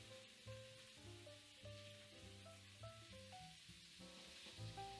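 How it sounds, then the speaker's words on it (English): Onions sizzling on a hot griddle beside rendering bacon, a soft steady frying hiss heard faintly under background music, with no talking. "I'm going to just put my onions right on the same griddle"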